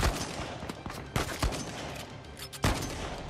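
Rapid gunfire from the video game Uncharted 4 crackles continuously with several sharper individual shots standing out, a dense steady barrage without talk.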